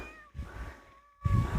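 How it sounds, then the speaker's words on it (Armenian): A large, apparently hungry cat meows twice outdoors, a drawn-out plaintive cry followed after a short pause by a second louder one, close by with no talk over it. "Այն ինչ կատվի ձեն եմ լսում"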